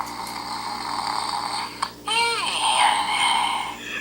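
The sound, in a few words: Grumblies Bolt toy snoring after meltdown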